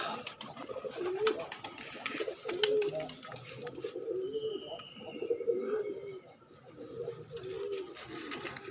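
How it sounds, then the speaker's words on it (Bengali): Pigeons cooing at a small pigeon farm, repeated rolling coos rising and falling over several seconds with sharp clicks and faint background sounds, close and clear. "সব থেকে ভালো কবুতরটা"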